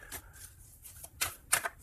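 A deck of tarot cards is shuffled and cut by hand, with soft riffling flutters and a couple of sharper card slaps, quiet and close.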